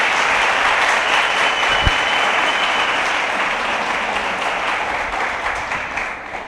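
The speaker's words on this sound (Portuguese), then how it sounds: "Então aplauda o Senhor." A church congregation claps for the Lord, a thick, sustained roar of applause from many people across several seconds that tapers slightly toward the end, with no speech.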